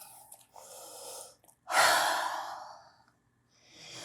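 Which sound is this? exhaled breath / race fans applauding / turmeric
exhaled breath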